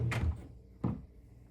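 A drawer in a hotel room TV stand at the Loews Sapphire Falls Resort is pulled open and shut, giving two soft wooden thunks about three-quarters of a second apart, close by in a quiet room.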